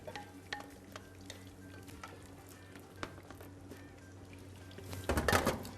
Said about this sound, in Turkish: Hemen diğer makarnamızı da içine boşalttıktan sonra onu da iyice bir karıştıralım.